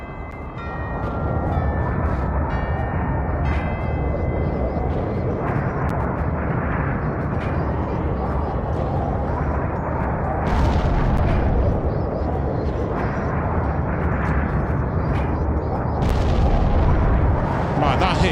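A bomb going off among enemies in American McGee's Alice, set in a dense, rumbling stretch of game combat noise with a few sharper bursts standing out, loud and continuous.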